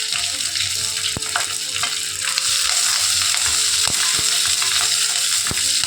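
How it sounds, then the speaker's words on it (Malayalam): Curry leaves, ginger, garlic and green chillies sauté in a pan, giving a loud, steady sizzle with scattered stirring scrapes and clicks, no voices. "നമ്മൾ ഈ കറിവേപ്പിൻ്റെ ഇലയും ഇഞ്ചി വെളുത്തുള്ളി അത് പച്ചമുളകും ഇതിലേക്ക് ഇട്ടൊന്ന് വഴറ്റി കൊടുക്കാം."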